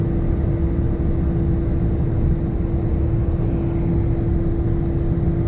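Beechcraft King Air A90 turboprop taxiing, heard from inside the cockpit: a loud, steady engine and propeller drone with a constant hum running unbroken throughout, with no talk.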